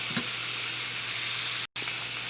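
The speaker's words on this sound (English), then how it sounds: "onions are cooking down" Onions with ground black pepper frying in a pan, a continuous close sizzle with a light stir or clink near the start.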